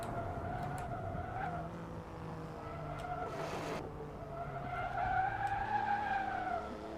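Race car lapping Mugello circuit in a racing video game, engine droning steadily with rising and falling pitch through gear changes, tires skidding and squealing through corners, a brief burst of rushing noise midway.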